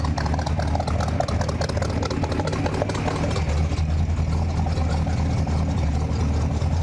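A 1958 Chevrolet Apache Fleetside truck engine idles steadily up close, a low, even rumble with a mechanical patter running throughout and no talking.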